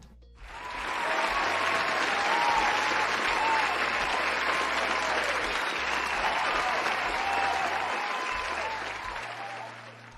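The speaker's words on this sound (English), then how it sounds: "he deserves a round of applause." Audience applause fills a hall, swelling in after a second and holding steady as a dense, loud wash of clapping before easing slightly toward the end, with a few cheers mixed in.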